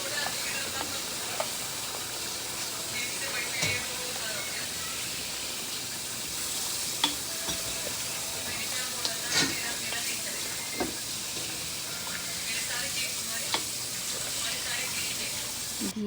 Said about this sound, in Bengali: তারপর দিয়ে দিব 1 কেজি থেকে একটু বেশি খাসির মাংস। কিছুক্ষণ আমরা নাড়াচাড়া করব।